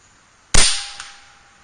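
A single sharp report from an Air Venturi Avenger .25 air rifle firing a Predator Polymag pellet: a loud crack that decays over about a second, followed by a faint tick of the pellet striking the target, with no talk.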